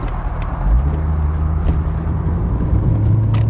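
A 1989 Corvette convertible on a test drive, its engine giving a loud, steady low rumble that shifts in pitch as it pulls away and changes gear, heard from inside with a few faint clicks and rattles.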